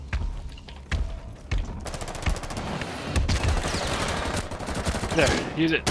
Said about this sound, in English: when he's down, use your shotgun on his back